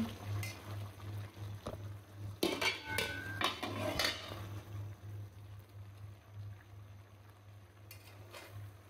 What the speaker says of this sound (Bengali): নাড়া দিয়ে দিলাম।